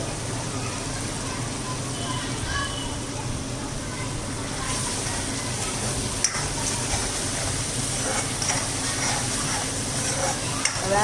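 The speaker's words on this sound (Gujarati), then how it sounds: "પેલા વઘારવામાં લવિંગ ને બાદિયા નાખ્યા." Cloves and star anise sizzle in hot tempering oil for a sev tomato curry, a continuous frying hiss with a few clicks. Voices talk over it in the background.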